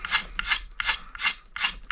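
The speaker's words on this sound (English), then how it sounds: "start the sanding process" Sandpaper rasping old poly finish off a guitar neck in five quick, even strokes, each a close, dry scratchy swish with short pauses between.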